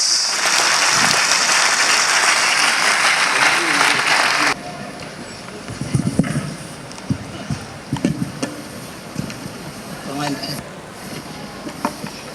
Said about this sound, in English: we need to give the presenter a practical round of applause